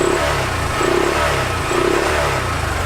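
A Honda Grom with a Chimera intake and factory exhaust revs in repeated rising bursts, a buzzy mid-pitched engine note with induction roar, close and loud, with no talking.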